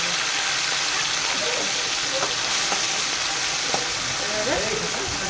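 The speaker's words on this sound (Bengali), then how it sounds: "মাছগুলো ভেজে নেওয়ার জন্য তেলটা আমি গরম করে নেবো" Small native fish sizzle loudly and steadily in hot oil in a kadai, a dense frying hiss with occasional pops and soft stirring scrapes and no talk.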